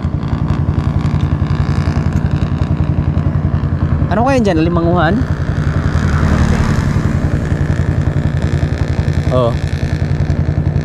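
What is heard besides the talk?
large boat engines running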